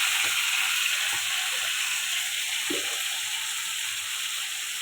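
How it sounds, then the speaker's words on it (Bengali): Prawns with turmeric sizzle and hiss steadily in hot oil in a wok, a constant frying crackle with a few soft stirring knocks. "দিয়ে দেবো কড়াতে চিংড়ি মাছ, দিয়ে দেবো একটু হলুদ"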